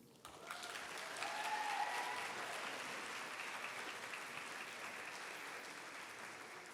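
An audience at a spring college of education pinning ceremony applauds the honorees, a steady, full round of clapping that starts almost at once and holds evenly to the end.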